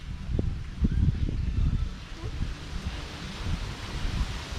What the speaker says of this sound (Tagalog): Mahangin yung panahon ngayon.